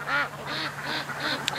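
Ducks raised for charity, startled on the water, give a run of about five loud, close quacks in quick succession, nasal and rasping, over a low steady background hum.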